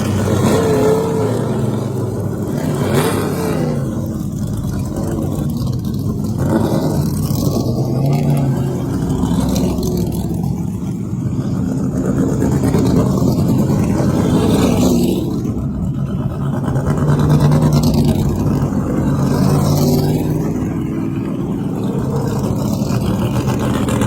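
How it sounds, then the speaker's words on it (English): Loud Trans Am racing car engines roar and rev continuously as several cars pull away at a historic race during Monterey Car Week, the sound swelling and fading as they accelerate. "take a listen to these incredible Trans Am cars as they head out for"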